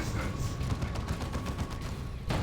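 Heavy bolter gunfire in the Dawn of War 2: Retribution strategy game rattles in a dense, continuous stream of rapid shots over a rumbling battle backdrop, steady and moderately loud.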